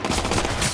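Gunfire from the video game Watch Dogs 2, a rapid burst of shots rattling steadily for under a second at moderate volume with no talk over it.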